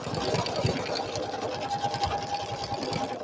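Sewing machine stitching through quilted fabric on an art piece, a steady continuous mechanical whir with rapid needle rhythm running throughout at close range, no talk.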